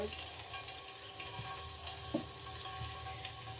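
Cinnamon frying in hot oil in a pan produces a continuous, even sizzle and crackle that holds steady throughout, with a faint clink or two and no talking.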